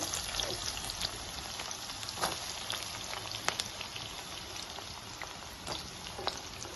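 Chopped onions sizzle in hot oil in a pan with cardamom and cloves for a country chicken curry, a soft, steady crackling hiss with scattered small pops, faint and continuous with no voice over it.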